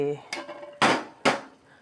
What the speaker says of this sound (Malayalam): കുക്കർ ഞാൻ തുറന്നതേ ഉള്ളൂ